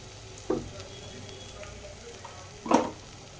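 Tomato masala frying in a home pan for egg rice, giving a steady low sizzle with two brief louder bursts of stirring or spatula scraping.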